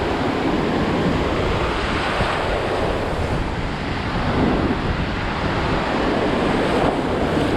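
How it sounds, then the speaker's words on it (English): Atlantic Ocean surf breaks at Daytona Beach, Florida, in a continuous loud wash of crashing and receding waves, with gusts of wind buffeting the microphone and no voices. "The waves can shoot up in the air, so I gotta be very extra careful."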